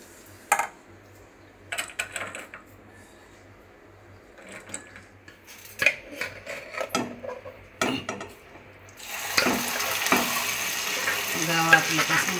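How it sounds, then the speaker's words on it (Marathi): Cashews and almonds frying in ghee in a home kitchen, with soft sizzling and scattered clicks and scrapes of a spoon stirring the pan, the frying growing steadier and louder toward the end. "मस्त फ्राय करून झाले आपलं काजू बदाम।"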